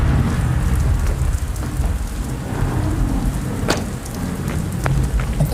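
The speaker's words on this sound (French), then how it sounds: "La pluie frappait désormais le sol dans un bruit net et presque continu" Steady heavy rain pours down in a dense, continuous hiss as a storm effect for a French audio drama, with low thunder rumbling underneath and a few sharp crackles; no voices.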